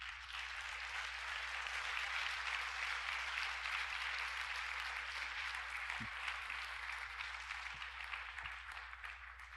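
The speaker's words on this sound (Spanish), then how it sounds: "le damos una fuerte bienvenida con un fuerte aplauso" A church congregation applauds together, a dense, steady wash of clapping that holds strong for the whole stretch and eases only slightly at the end.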